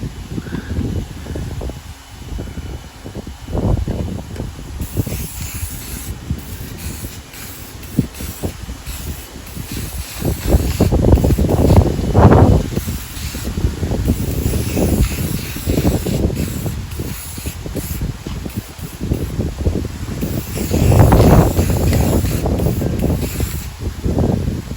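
A spray paint can, weak and sputtering, hisses in repeated short and longer bursts while coating parts of a broken umbrella being repaired, close and fairly loud throughout.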